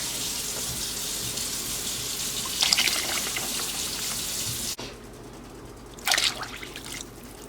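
Water is poured from a glass into a soup pot of homemade chicken noodle soup, two short splashing bursts a few seconds apart over a steady kitchen background hum.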